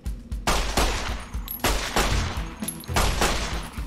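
Rapid volleys of gunfire ring out at a shooting range in the video game Fallout: New Vegas, arriving as four or five loud bursts in quick succession with no one talking.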